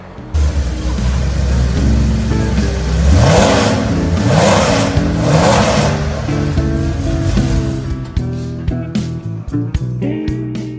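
A Porsche 911 S/T restomod's engine, a modified flat-six producing 280 bhp, revs hard and loud in a sustained rising snarl for several seconds, then settles into a burbling, crackling idle up close.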